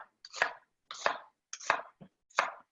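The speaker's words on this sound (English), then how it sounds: "So onions is the next step. Yeah, so you're just gonna cut up kind of in kind of thick thick slices" Knife chopping onions into thick slices on a cutting board for Khmer curry chicken, four separate sharp chops spaced about half a second apart, close and fairly loud, with no talk.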